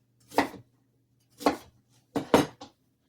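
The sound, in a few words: chopping onion on a cutting board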